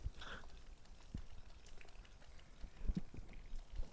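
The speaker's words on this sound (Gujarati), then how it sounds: "હવે ભાઈ જુઓ વરસાદ વધતો જાય છે." Rain falls steadily on a village farm plot, a soft continuous patter with a few scattered nearer drops, fairly quiet and with no talking.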